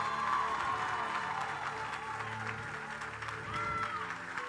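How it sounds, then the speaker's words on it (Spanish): Applause from a congregation at a church testimony gathering, a moderate, steady clapping heard under background music and voices. "Un aplauso grande."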